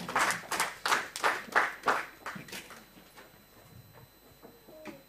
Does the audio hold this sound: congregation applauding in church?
yes